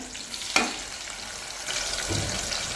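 Tomatoes sautéing in a pan for thattapayaru kulambu, a soft steady sizzle with one sharp clack of a spoon early on and a louder hiss toward the end, no talking.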